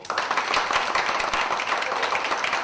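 A training-session audience claps for a West Bengal associate, many hands giving a lively, continuous burst of applause for nearly three seconds, nearby and without speech.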